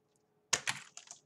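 Plastic latches on a Blu-ray case snap off under scissors in a quick cluster of sharp cracks and clicks, close and fairly quiet after a brief silence.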